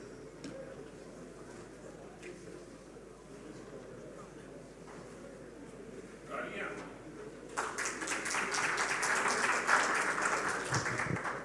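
Applause from an audience at a medical conference, breaking out after quiet murmuring and a few stray claps, then building to a loud sustained round of clapping in a hall.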